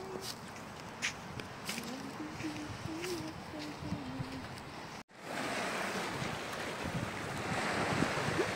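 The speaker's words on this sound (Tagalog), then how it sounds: "Uy, kalmado yung dagat." Calm sea waves washing onto a beach in Oman, a soft continuous surf hiss with breezy wind rumble on the microphone, while a voice talks faintly in the first half.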